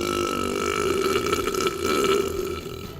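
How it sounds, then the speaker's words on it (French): A loud, close burp rumbles on for most of three seconds, a sustained croaky eructation with a slight watery gurgle and no talking over it. "Numéro 1, arrêté pour avoir roté en classe."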